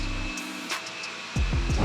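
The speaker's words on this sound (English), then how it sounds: "You can use it in turbo mode for full power, but it gets a bit noisy." A robot vacuum cleaner in turbo mode whirs at full power, its motor dropping out briefly and then surging back with a rising, pulsing drone, no voices.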